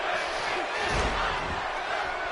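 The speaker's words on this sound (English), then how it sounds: "Now you hear the crowd" Arena crowd cheering in the WWE 2K18 wrestling video game, a steady roar of massed voices throughout, loud and continuous without pause.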